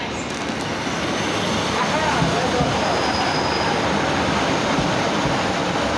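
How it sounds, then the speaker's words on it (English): An East Midlands Railway train, a Class 156 unit, passes close by at Beeston station with a loud, steady rumble of wheels and engine that holds throughout. "And incoming now we see the late one in 1044 East Midlands Railway"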